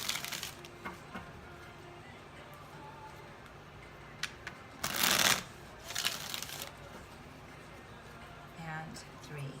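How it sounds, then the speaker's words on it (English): Tarot cards are shuffled close by in a quiet room, with soft riffling and two sharp bursts of card flutter in the middle. "So let me shuffle it 3 more times."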